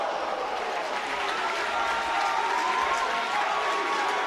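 A wrestling crowd on its feet cheering and applauding after a top-rope move, a dense, continuous roar of clapping and shouting that holds steady and swells slightly toward the end.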